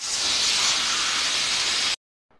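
A pressure cooker hisses loudly as its whistle is loosened, a steady close rush of steam for about two seconds that cuts off abruptly into near silence, followed by a faint small clink.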